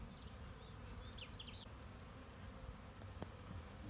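Honeybees swarming during a swarm capture outdoors, a steady buzzing drone that hangs close and continuous, with faint higher whines of individual bees passing near.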